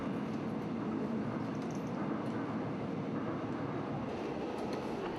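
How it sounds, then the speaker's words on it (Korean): Steady rumble inside a moving subway train, a continuous broadband roar with no voices, holding an even level throughout. "책에 몰두하다 급하게 지하철에 오르는 준이"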